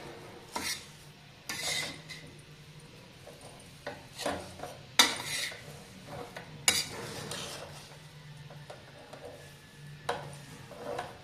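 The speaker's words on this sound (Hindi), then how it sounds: "ये इस तरह से इसको भूनते रहेंगे, चलाते रहेंगे मतलब।" An almond and coconut sweet mixture with melting sugar is roasted and stirred in a pan, with repeated scraping strokes and clinks of a spoon against metal at irregular intervals, near and fairly loud.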